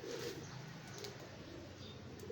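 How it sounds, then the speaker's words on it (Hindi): Soft, low pigeon coos sound faintly in the background, with light ambient noise and an occasional thin chirp. "ये कबूतर है।"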